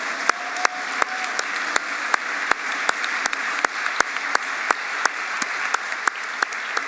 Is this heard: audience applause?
yes